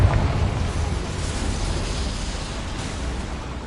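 A Confringo spell blast in Hogwarts Legacy lands as a loud, roaring burst at the start, then a dense rumble that slowly fades over a few seconds.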